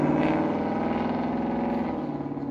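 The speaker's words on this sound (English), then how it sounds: "Here's a noisy car coming." A noisy car passes nearby on a street, a loud rough engine drone with low throbbing that fades slightly toward the end.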